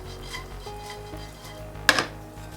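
Sliced almonds toasting in oil in a pan while being stirred nonstop, with a soft steady sizzle, gentle scraping and one sharp metallic clank of a spoon against the pan.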